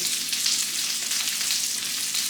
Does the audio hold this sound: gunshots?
no